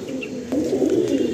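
Close, fairly loud cooing from a pair of pigeons in a loft, a continuous throaty rolling murmur that swells partway through, with no talk.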